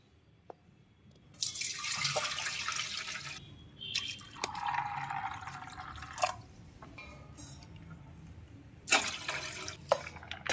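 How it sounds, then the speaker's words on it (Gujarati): Soaked split lentils are rinsed in water in a kitchen, with bursts of water pouring and splashing between quieter pauses, plus scattered drips and light clinks, all close and fairly soft. "હવે આપણે આને ધોઈ નાખીએ અને એક પાણીએ ધોઈ નાખવાનું, 2 પાણીએ."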